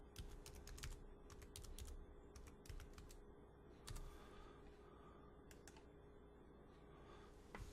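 A password is typed on a computer keyboard in a quiet office, with irregular bursts of light, close key clicks separated by short pauses.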